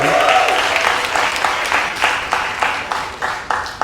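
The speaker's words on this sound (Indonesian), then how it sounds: "Boleh tepuk tangan dulu." A comedy club audience at a stand-up show bursts into loud applause and cheering, strongest at first and then settling into rhythmic clapping.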